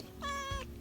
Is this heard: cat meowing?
yes